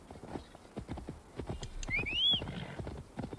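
Horse hooves clip-clopping in a video game, a steady run of close hoof strikes with a short whinny in the middle, heard over faint background noise.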